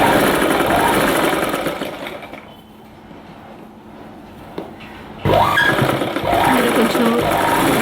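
Sewing machine stitching sleeves onto a readymade dress, its motor whirring steadily up close, easing off briefly mid-run before resuming at full, even speed.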